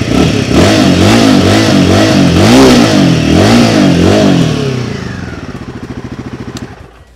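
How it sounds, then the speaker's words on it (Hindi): Royal Enfield Himalayan 450 motorcycle exhaust note, loud close revving that rises and falls several times before settling into a steady, thumping idle that fades out. "अब एग्जॉस्ट की बात कर रहा हूँ तो आपको इसका एग्जॉस्ट नोट भी सुना देते हैं।"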